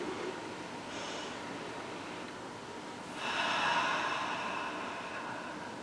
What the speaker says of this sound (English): take a deep breath with me